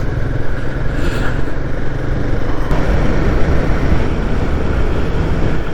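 A Royal Enfield Guerrilla 450 motorcycle rides through back lanes, its engine and road rumble forming a loud, steady, close drone with no talking.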